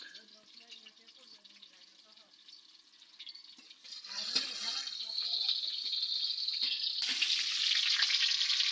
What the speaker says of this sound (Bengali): ওই পাশে আমি কড়াইতে পেঁয়াজ দিয়ে দিলাম